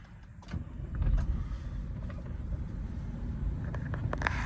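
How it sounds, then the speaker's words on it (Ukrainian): A Chevrolet Captiva 2.2 diesel with 192,000 km idles after a clean start, running evenly without misfiring. It gives a steady, fairly quiet low rumble throughout, with no voices. "Заводиться класно, працює рівно, не троїть, не димить."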